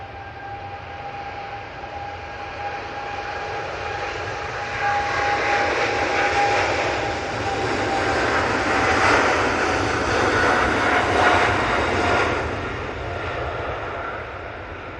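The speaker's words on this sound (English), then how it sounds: "Etihad 777-300 ER on the roll." An Etihad Boeing 777-300ER on its takeoff roll at Manchester Airport, a powerful rising jet roar with a thin whine that swells to a peak near the middle and then slowly eases as it climbs away.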